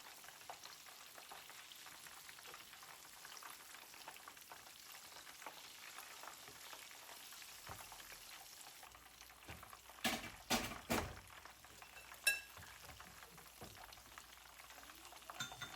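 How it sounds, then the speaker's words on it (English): Chicken wing pakoras coated in gram flour batter deep fry in hot oil, giving a continuous soft sizzle and crackle, with a few sharp clatters and stirring knocks near the end. "Chicken wings deep with garam flour batter. Shake excess. Fry 10 to 12 minutes medium-high heat."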